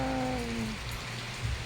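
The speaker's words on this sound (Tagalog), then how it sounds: "Tignan mo, umuulan dito sa amin. Ambon." Light drizzle falling outdoors at a home, a soft steady hiss of rain on surfaces heard faintly, with a brief low engine-like hum fading early in the clip.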